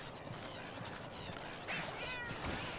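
Cat companions meowing in the video game Monster Hunter X, several short mewing calls over busy game noise and action sounds, with the last call louder and closer.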